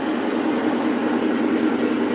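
A model train of high cube boxcars and flat cars runs past at a layout open house, giving a continuous close rolling rumble with no pauses.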